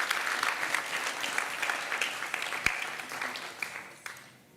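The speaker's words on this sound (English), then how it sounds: "Please give him a round of applause for Mr. Bhargava Halambi." An arangetram audience applauds a musician after his introduction, brisk, steady clapping from a crowd that continues strongly and then tapers off.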